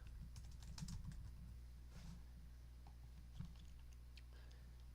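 Quiet typing on a computer keyboard, with light clicking keystrokes in short irregular bursts over a steady low hum.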